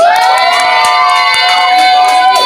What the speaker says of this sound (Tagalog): Palakpakan sigawan!